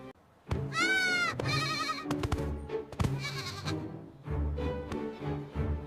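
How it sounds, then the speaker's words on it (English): A mountain goat bleats loudly several times in long, wavering calls with short pauses between, close and clear, mixed with a few other bleats. "I see a mountain goat."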